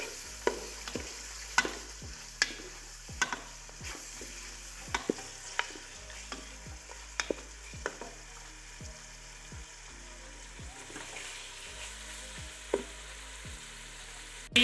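Meat fries in oil with coarsely crushed garlic and ginger while a spoon stirs, giving a constant close sizzle punctuated by regular sharp clanks of the spoon against the pot, with no talking.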